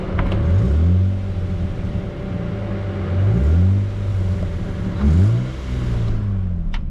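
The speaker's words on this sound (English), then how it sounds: "That, dear friends, is a hole in the exhaust or in the manifold." Lexus IS200 engine with a hole in the exhaust or manifold, revved repeatedly in three rising and falling sweeps over a rough, rattling idle, heard up close.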